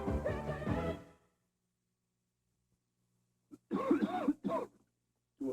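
Coughing in a 1980s cough medicine TV commercial: a short throaty burst at the start, then after a quiet gap a second cluster of hoarse coughs and throat clearing, close and fairly loud.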